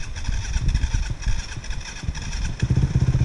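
A motorcycle engine revs under throttle in rough, uneven bursts that rise and fall close by, then settles into a steadier idling throb near the end.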